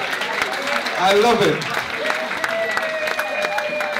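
An audience applauds in a room, a moderate wash of clapping that swells briefly and then carries on under a person speaking.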